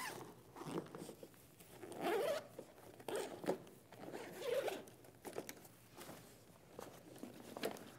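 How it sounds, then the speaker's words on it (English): A zipper drawn open on a voting equipment bag sounds in several short rasping pulls spread over a few seconds, close and fairly quiet, with light rustling and handling noise between strokes. "Unzip the bag."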